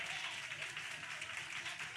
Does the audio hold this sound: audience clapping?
yes